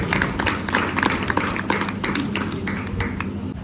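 An audience at a camp gathering claps for a girl's speech, a lively burst of many hands tapping and slapping in quick irregular rhythm, close and fairly loud throughout with no talk.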